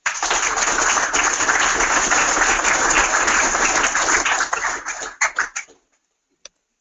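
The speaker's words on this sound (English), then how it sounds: "give a round of applause to all our new employees" Workplace audience applauding new employees at a company gathering, dense continuous clapping that stays loud for several seconds, then thins into a few scattered claps and stops, with one last isolated clap after a pause.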